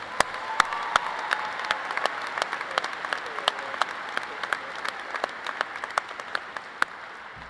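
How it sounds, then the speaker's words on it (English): A high school commencement audience claps in a steady, moderately sparse round of applause, individual sharp claps standing out over a continuous patter, with no talk. "Let's give a round of applause for that."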